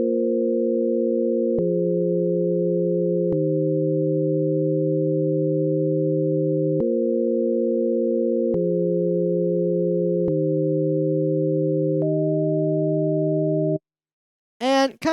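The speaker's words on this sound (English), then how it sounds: "These chords, they sound like this." Dark future garage style synth chords, smooth sustained tones that step through a slow repeating progression with soft clicks at each change, loud and alone, cutting off near the end before a short vocal blip.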